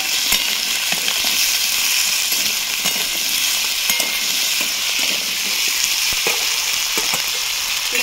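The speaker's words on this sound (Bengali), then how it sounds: "এবার প্রথমে আলুগুলোকে ভেজে নেবো।" Potatoes fry in hot oil for a green onion and poppy seed dish, giving a steady, loud broadband sizzle with scattered crackles and pops throughout and no voices.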